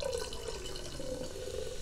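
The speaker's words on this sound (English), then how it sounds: "Okay, now we're gonna add the vinegar." Vinegar pours steadily into a container of corn kernels, a continuous close liquid trickle and splash lasting about two seconds with no voices.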